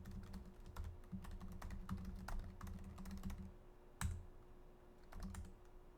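Quick bursts of typing on a computer keyboard while logging into a compute cluster; rapid, close key clatter with short pauses and a single louder keystroke near the middle.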